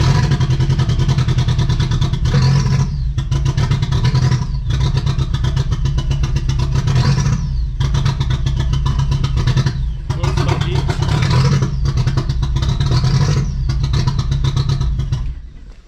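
A 1.8-litre turbo engine swapped into a VW Golf Mk3 revs loudly and repeatedly, with brief dips between pulls and a slightly poppy edge, and runs without pause for the whole stretch.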